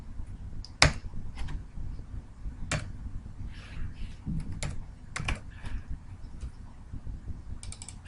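Typing on a computer keyboard while entering an Excel formula: scattered, fairly quiet key clicks and a few sharper taps in irregular bursts, with no speech.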